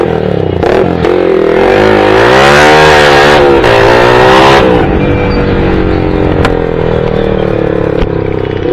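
A Yamaha R15 V3 sport motorcycle with carbon fibre bodywork revs hard up close, its pitch climbing and falling, then settles into a steady drone as it rides away, with a few clatters.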